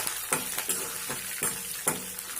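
Split cashews fry in hot oil in a pan for carrot rice, a faint, close sizzle broken by a few soft, regularly spaced stirring scrapes and clicks.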